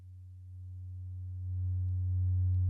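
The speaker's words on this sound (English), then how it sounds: "a sine wave to the mixer" A pure synthesizer sine wave patched straight into a mixer, a steady low electronic tone that grows slightly louder partway through, sounding alone.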